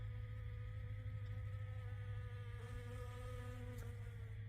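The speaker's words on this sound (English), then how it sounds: "Bees absolutely love them." Bees buzzing around a pink honeysuckle shrub in bloom in a spring garden, a continuous close droning hum with wavering tones and no talk.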